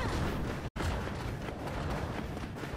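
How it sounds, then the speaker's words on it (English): Cannon fire in the video game My Hero Ultra Rumble makes a loud, dense blasting roar that fills the whole stretch, broken once by a short gap of silence. "Should I hit him with that cannon?"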